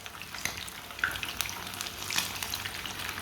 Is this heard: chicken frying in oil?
yes